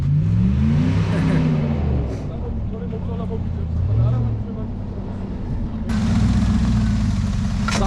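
A car engine revs hard in rising and falling sweeps while drifting, loud and close, with excited voices talking and shouting over it throughout.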